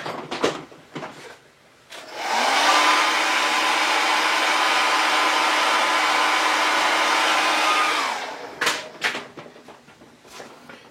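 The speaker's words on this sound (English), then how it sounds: "I'm going to go over and hit them with the blow dryer real quick." A handheld blow dryer aimed at freshly painted eye makeup, switching on with a loud steady whoosh that runs about six seconds before cutting off, with clicks and handling noise before and after.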